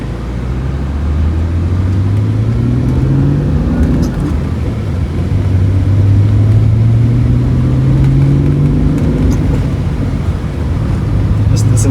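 A 1980s Toyota Cressida with the 2.8 Twin Cam engine revs up with a steady, close mid-pitched drone, climbing in pitch in two long sweeps as it pulls through the gears, heard from inside the car with the windows shut.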